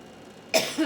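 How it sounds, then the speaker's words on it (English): A single sharp cough bursts out close to the mic after a quiet stretch, followed by a brief rougher throat sound. "as I'm coughing"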